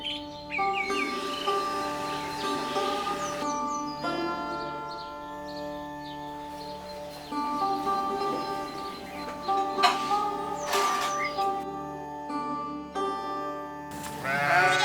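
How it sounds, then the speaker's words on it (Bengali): Goats bleating at dawn on a goat farm in Bangladesh, with repeated calls through the clip, mixed with birdsong and other farm animal sounds, fairly near and steady with no talk. "এখানে ভোর শুরু হয় ছাগলের ডাকে"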